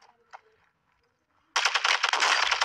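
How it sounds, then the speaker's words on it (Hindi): Call of Duty gunfire from enemies up on a hill: a loud, sustained burst of rapid automatic fire erupts after a quiet stretch and continues to the end. "अरे पहाड़ पे चढ़ के फायर कर रहे हैं"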